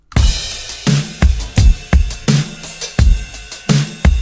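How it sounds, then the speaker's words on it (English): A full rock drum kit with snare, looping hi-hats, ride, crash and overdrive, punchy kick and snare hits in a steady groove with bright cymbal wash, loud and close with no voices. "The full drums sound like this"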